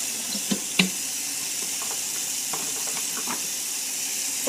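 Cool tap water runs steadily into a sink while a wig is being washed, a continuous hissing flow with a few faint clinks and splashes close by.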